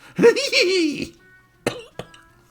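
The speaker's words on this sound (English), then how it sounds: "Again that cough." A drawn-out, raspy cough close by, followed by two short, sharp coughs after a pause.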